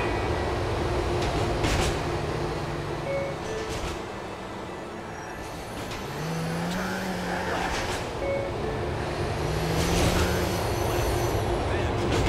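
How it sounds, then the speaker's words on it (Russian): In Grand Theft Auto IV, a train runs alongside a moving vehicle, its rumble and squealing wheel tones rising and falling over steady road noise, with faint talk. "Нас что, поезд, что ли, преследует?"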